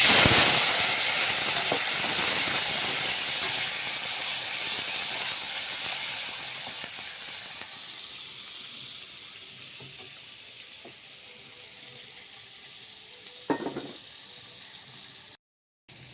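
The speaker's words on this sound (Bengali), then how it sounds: "প্রথমে আমি আলুটা ভাজা করে নেব।" Potatoes frying in hot oil with bay leaf and five-spice seeds for a paneer curry: a steady broadband sizzling hiss that slowly eases over the clip, with a brief utensil clink near the end.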